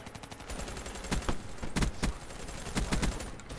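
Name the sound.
gunfire in video game Black Ops 3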